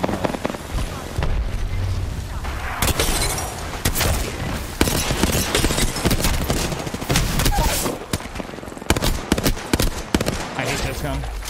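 Rapid automatic gunfire and explosions crackle loudly in an Apex Legends match, dense bursts of shots and booms filling the scene while players talk over the fighting.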